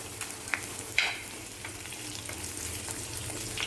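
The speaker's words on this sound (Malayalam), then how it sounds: "നന്നായിട്ട് വഴറ്റട്ടെ." Curry leaves sautéing in hot oil in a pan for a fish curry with coconut milk, a low steady sizzle with a couple of brief sharp crackles and stirring scrapes, close and fairly quiet.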